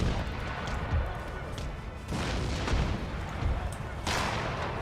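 Cannon and musket fire from a unit of guns during a siege battle in Empire: Total War, heavy low booms rolling continuously under a dense battle din with several sharper bursts.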